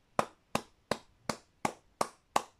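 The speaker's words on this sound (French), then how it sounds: "Applaudissez Nzambe" Seven sharp, evenly spaced claps ring out in a church, a steady rhythmic beat of applause from a congregation, each hit crisp and close with quick decay and no talking.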